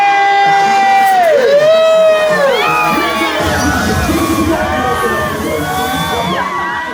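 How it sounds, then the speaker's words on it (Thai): Loud crowd cheering, whoops and shouts for contestant number nine at a jeans-themed campfire party at Chang Camp, with rising and falling yelled voices over a busy crowd. "เสียงปรบมือกับหมายเลขเก้า"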